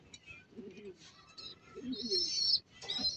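Racing pigeons coo on the roof of a basketball court in San Pablo, Laguna, with low repeated coos and higher chirps among other birds, fairly near, against outdoor background noise.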